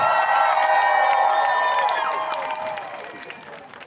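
A crowd at a pride event in Sofia cheers and claps, with sustained whoops and tonal shouting over applause, loud at first and gradually fading out.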